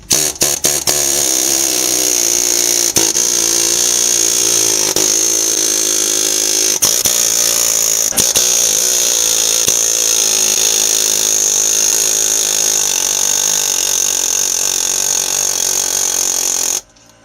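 An air compressor builds up pressure in a garage during a front wheel bearing job on a Chevy Cavalier, giving a loud, close, continuous mechanical drone with a few faint clicks. The drone runs for about seventeen seconds, then cuts off abruptly.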